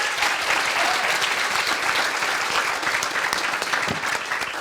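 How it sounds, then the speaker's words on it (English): Steady, dense applause from a crowd at a community forum on racial equity in Marin County, filling the whole stretch loudly and evenly with no break. "Let's give them another round of applause"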